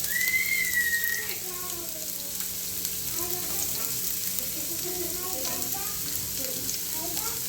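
Sliced onions sizzle in hot oil in a home kitchen, a steady close crackle and hiss with a brief whistle-like tone near the start and faint clinks of stirring.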